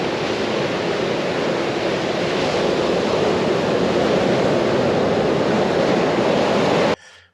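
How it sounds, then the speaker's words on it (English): Ocean waves washing back over a beach, a loud steady roar of surf and receding water filling the scene, then cutting off abruptly at the end. "just as the water goes back over the beach"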